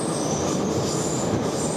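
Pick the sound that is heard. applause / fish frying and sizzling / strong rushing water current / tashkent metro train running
tashkent metro train running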